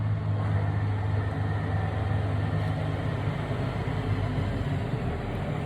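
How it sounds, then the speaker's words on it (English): Big truck passing outside, heard as a steady, loud low rumble and drone that holds evenly throughout with no talking. "Pause. Big truck."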